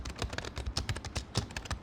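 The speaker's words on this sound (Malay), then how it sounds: "So pengalaman aku typing dekat keyboard ni" Typing on a Fantech Go Mochi 85 keyboard, a steady run of fairly quiet, close keystroke clicks with an even, continuous rhythm and no voices.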